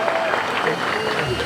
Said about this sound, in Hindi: मेरा भाभी के लिए जोरदार ताली बजाओ